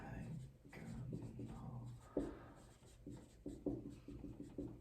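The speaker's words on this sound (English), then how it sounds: "Actually, let me write that out so you don't forget it." Handwriting on a surface during a lesson on the Crank-Nicolson finite difference method, with short scratchy strokes in bursts and pauses, heard up close.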